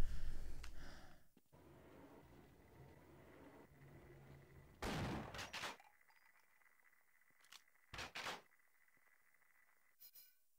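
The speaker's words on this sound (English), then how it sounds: "I'm just using my fucking shotgun." Shotgun blasts in the video game Half-Life: one loud, booming burst followed by a few shorter, quieter shots spaced seconds apart, with a low rumble and background game noise between them.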